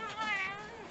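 A house cat meows in a short, rising and falling call, fairly close and clear, with a voice briefly overlapping it.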